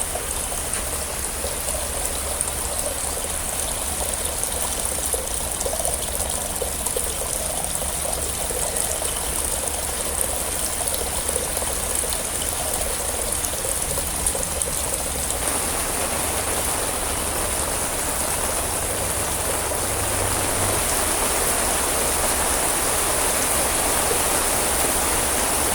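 Heavy rain pours steadily outdoors, a dense, unbroken hiss of drops on surfaces with trickling water, holding a constant loud level throughout with no voices.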